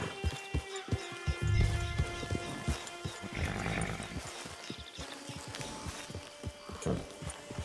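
Horse in the Red Dead Online video game, with repeated clip-clop hoofbeats and a whinny near the end, heard up close over ambient game sound.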